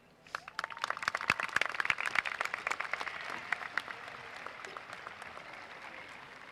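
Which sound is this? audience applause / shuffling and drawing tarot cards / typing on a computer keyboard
audience applause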